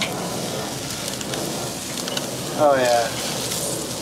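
Chicken drumsticks searing on a Weber charcoal grill give a steady, close crackling sizzle throughout, swelling briefly louder near the end, while a voice speaks a few words over it.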